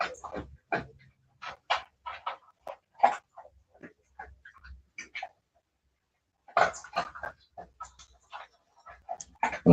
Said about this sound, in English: Oh, I hear my fucking dog and shit.